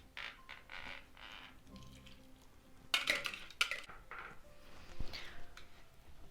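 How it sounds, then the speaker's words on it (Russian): Kefir pancake batter being stirred in a bowl: soft scraping swirls with a few bright clinks of utensil against the bowl, quiet and close, with no talk. "Размешаем тесто."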